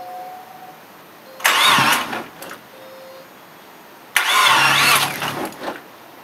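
Someone turns the key on a car with a power-shift transmission and a broken clutch cable. The engine cranks and catches in two separate loud bursts, each about a second long, separated by a few seconds of quiet.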